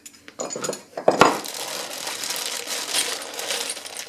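Loose nuts, bolts and Allen wrenches from a Grizzly G0752 lathe setup clattering together, a sharp metallic clank followed by several seconds of continuous close jingling and rattling.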